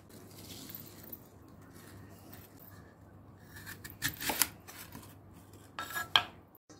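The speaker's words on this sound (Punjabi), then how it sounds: "ਐਪਲਾਂ ਨੂੰ ਮੈਂ ਛਿੱਲ ਲਿਆ ਆ ਛਿੱਲ ਕੇ ਇਹਨਾਂ ਨੂੰ ਡਾਈਸ ਕਰਨਾ ਆ" Peeled apples are diced on a cutting board with a knife, a few faint scrapes followed by several sharp, close chopping knocks in quick bursts near the end.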